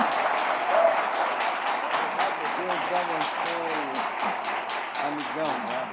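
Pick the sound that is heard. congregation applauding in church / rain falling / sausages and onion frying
congregation applauding in church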